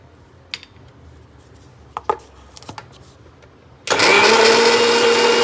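A kitchen mixer grinder blending fennel seed powder with salt roars in loudly and steadily after a few scattered clicks and taps, then keeps whirring at full volume until the end.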